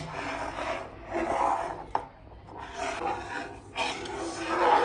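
Jaggery syrup being stirred into payasam in a pot, a steady scraping, rubbing stir with bursts of movement and a brief knock near the two-second mark, fairly close with no talking.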